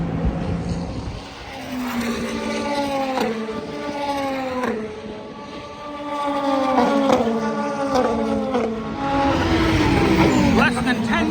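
Race cars at the Watkins Glen six-hour endurance race sweep past one after another, engines howling with rising and falling pitch as each car approaches and fades, heard from trackside with spectators chatting underneath.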